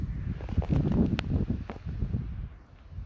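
Strong wind blows outdoors on a very windy day, buffeting the microphone with a continuous low rumble and gusty rustling. It is fairly loud at first and eases slightly toward the end.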